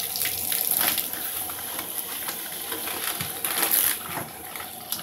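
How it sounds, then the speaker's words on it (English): Running water rinses perlite in a bag, with crunchy, gritty crackling and rustling of the wet granules over a steady stream, close and continuous, with no voices. "we're just going to go ahead and rinse all of our perlite and get it nice and soaked"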